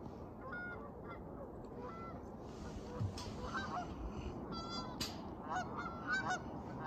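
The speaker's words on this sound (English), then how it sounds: "Canada geese, a flock of them." A flock of Canada geese honks repeatedly, the calls overlapping in irregular bursts at moderate distance over a low outdoor rumble.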